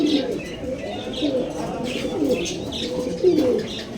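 Pigeons at the Haji Hat pigeon market in Pabna coo in repeated throaty, rolling calls, close and overlapping, with faint chirps and market murmur behind.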